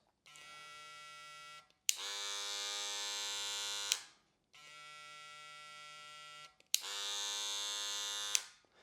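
A cordless hair clipper, including a StyleCraft Ergo, buzzes in four bursts, switched on and off, alternating between a softer and a louder, harsher-sounding motor, close by.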